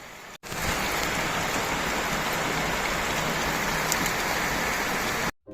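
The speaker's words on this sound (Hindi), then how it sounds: "चंदनपुर, जहाँ इस साल बहुत बारिश हो रही थी" Heavy rain pours down steadily in a cartoon story, a dense, continuous wash of falling water that stays loud and even from start to finish, with brief silent gaps at the very beginning and end.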